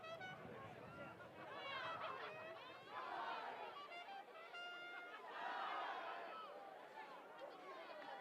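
Crowd noise at a high school Thanksgiving football game between Winchester and Woburn: a steady hubbub of many voices in stands, swelling in waves of cheering, with a commentator talking over it.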